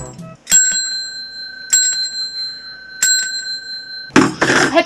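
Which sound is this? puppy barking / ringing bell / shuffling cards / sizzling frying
ringing bell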